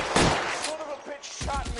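Gunfire in L.A. Noire: a quick cluster of loud, sharp shots in close succession, with a short pause before another burst, heard nearby amid background game sound.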